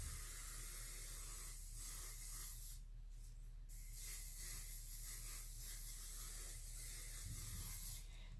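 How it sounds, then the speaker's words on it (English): Cheap hairspray being sprayed onto ferns for a glass fern serving tray, a steady close hiss lasting several seconds with brief pauses, loud and alone without talk. "We're gonna spray our ferns"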